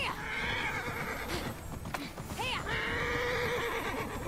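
A horse mount in the video game Immortals Fenyx Rising, galloping with rapid clip-clop hoofbeats while a loud whinny rises and falls in the middle, all close and continuous.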